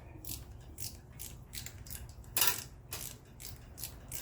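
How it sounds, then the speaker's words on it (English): Ratcheting tube cutter working a fuel line on an '87 Chevy S10, a close series of dry metallic clicks and scrapes in uneven rhythm, with one louder crunch partway through, and no voices. "This ratcheting tube cutter is one of the best tools I bought in a long time."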